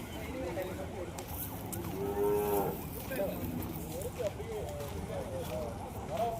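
Kangayam native cow lowing once in a drawn-out moo near the middle, heard over a busy background of crowd voices and outdoor noise at a native cattle gathering.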